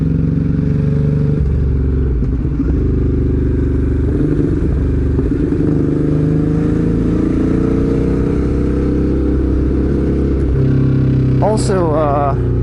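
A Ducati Hypermotard 821 motorcycle hums steadily on narrow roads in Okutama, Japan, its engine note loud and constant with some wind rumble. A voice speaks briefly over it near the end.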